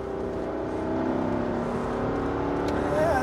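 A Mercedes E55 AMG wagon engine pulls under acceleration while driving, a steady rising drone heard from inside the car that climbs in pitch toward the end.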